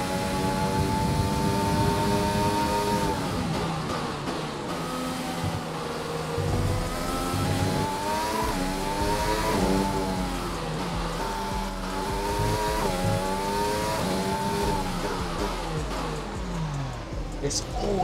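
Formula 1 car engine in F1 2020 at the Australian Grand Prix, a loud continuous whine rising and falling through gear changes, with a driver talking over it.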